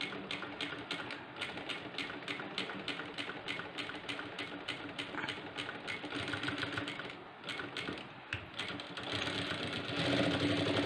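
A sewing machine runs fast, stitching a blouse with a dense, even needle clatter that goes on nearly throughout, with only short dips where it slows.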